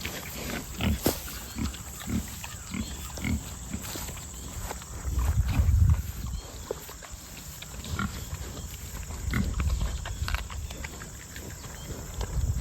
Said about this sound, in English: So we got 4 pigs marching up the alley.